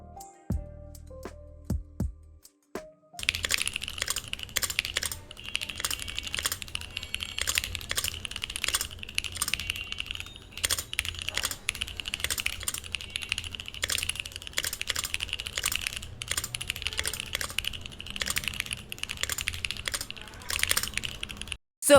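Fast, continuous typing on a Portico 75 custom mechanical keyboard with unlubed, rattling stabilizers, close and crisp clacks in a dense stream after a few isolated key presses at the start.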